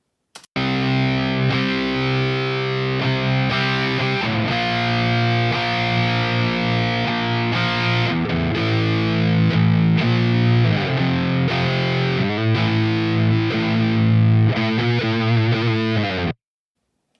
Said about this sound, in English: This is Amplitube Joe Satriani head with the two notes cabs.